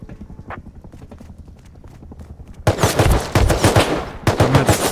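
Gunfire in the video game Rust in a snowy base-building setting, a rapid burst of loud shots erupting partway through after a stretch of quieter footsteps, close and harsh.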